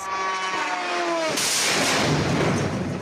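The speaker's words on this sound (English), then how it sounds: "Explosions rocking the capital for hours." A burst of heavy explosions from a large Russian aerial attack on Kyiv crashes in after a rising tone, leaving loud, rumbling blasts that roll on for several seconds.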